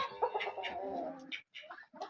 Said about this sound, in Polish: Kury im przeszkadzają.